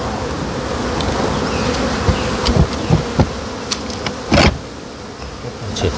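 Honeybees buzzing steadily around hives during an acacia honey harvest in Jecheon, a dense close swarm drone with a few sharper knocks and bumps from handling the equipment.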